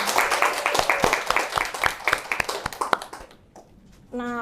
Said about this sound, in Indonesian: berikan aplaus untuk kelompok Dek Nisrina